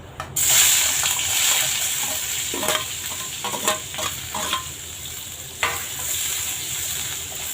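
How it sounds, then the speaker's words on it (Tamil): Onions sizzle steadily in a hot pan for sambar, with occasional stirring scrapes and clinks of a spoon against the pan, close and fairly loud. "இப்போ வெங்காயம் போட்டு வதக்கிக்கலாம்"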